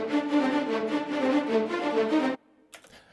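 Sampled orchestral strings heard through close microphones, a dense sustained harmonic chord with bowed pulsing swells that stops abruptly, followed by a brief faint tail and a small click, up front and dry.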